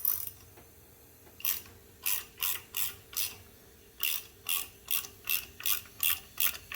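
A ratchet clicks on a boosted Ford Mustang engine during a valve spring change, giving a few quick strokes, a pause, then a long, even run of sharp, close clicking bursts.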